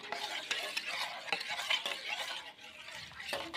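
A spoon stirs goat kid milk replacer in a container, giving quiet, repeated scraping and clinking strokes in an uneven rhythm, close by and with no talking.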